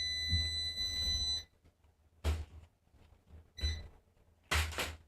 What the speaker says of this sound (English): My hair straightener just beeped when I plugged it up.